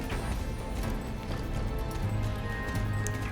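Horse hooves running in the video game Star Stable, a continuous rhythmic clip-clop of galloping under a faint game background.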